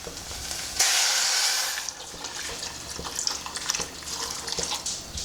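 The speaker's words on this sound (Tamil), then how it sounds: "இப்போ நம்ம எடுத்துருக்கிற வாட்டரை அதில் விட்டுடலாம்." Water is poured into a pot of beans and drumstick for soup, a loud splashing gush at first that settles into lighter trickling and dripping.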